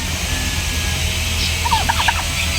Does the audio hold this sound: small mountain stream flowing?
no